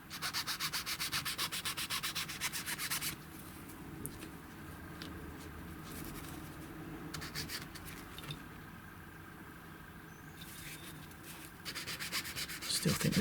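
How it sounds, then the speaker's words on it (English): A needle file rubs back and forth over the commutator of an AC brush motor with high resistance. Close, dry rasping comes in rhythmic bursts, loud at the start and end with a quieter stretch of lighter filing between. "This one I'm going to do with a needle file"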